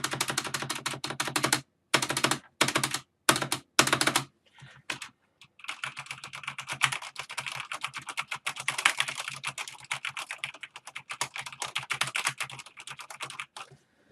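Typing on a Corsair K95 Platinum keyboard: loud, fast, close-up key clatter, with short bursts and brief pauses at first, then a long unbroken run of rapid keystrokes.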